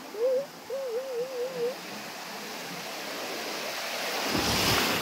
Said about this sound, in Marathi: भरपूर दिवसांनी तिला आज समुद्रावरती घेऊन आले सिटीला.